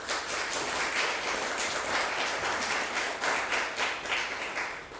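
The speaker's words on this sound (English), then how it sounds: "let's give a big round of applause for our speaker today" A lecture audience claps for a guest speaker, a steady, full round of applause from many hands that carries through the whole stretch with no talking.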